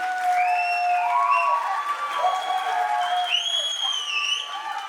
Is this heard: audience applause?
yes